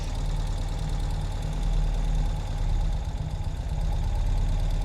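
2020 Ural Gear Up Arctic Dawn sidecar motorcycle engine running steadily while the bike moves in reverse, a close, even low-pitched chugging throb with a slight swell midway, no talk.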